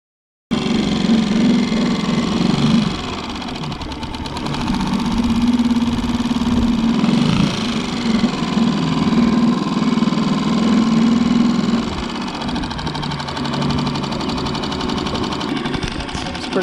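An engine idles steadily after an adjustment, a continuous mid-pitched running drone with slight fluctuations in speed, close and fairly loud, with voices talking now and then over it.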